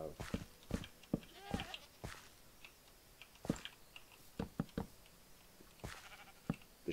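Minecraft sheep bleat in several short, fairly faint calls scattered through the clip, mixed with small blocky game sounds and soft clicks from building on a farm.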